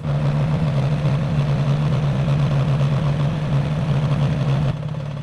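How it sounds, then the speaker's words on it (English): A BMW R1300GS motorcycle idles at operating temperature with its cooling fan running, a steady close, loud low hum and whir that drops away near the end. "95 degrees, the fan just kicked in"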